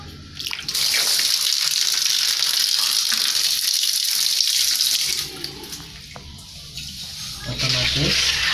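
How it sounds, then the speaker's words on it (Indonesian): Water draining from a fish-farming bucket through a siphon hose, a steady continuous rushing flow that holds level for several seconds, with faint handling noises near the end. "otomatis airnya akan mengalir ya di sini ya teman-teman"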